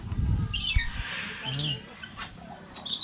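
Captive guinea fowl, little corellas and Nicobar pigeons squawk and call in an aviary, with harsh repeated squawks and some higher chirps, fairly close, with faint voices in the background.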